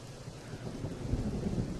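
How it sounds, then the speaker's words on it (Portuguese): Rain pours steadily while low thunder rumbles beneath it, a dense continuous storm wash for a drama scene. "Vamos caminhar na chuva."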